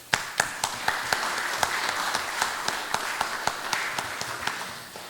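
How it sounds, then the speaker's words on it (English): An audience at the 40th annual general assembly of APIL applauds an ambassador. The clapping is steady and moderately loud, with sharp individual claps standing out at a regular rhythm throughout. "Let's give her a round of applause."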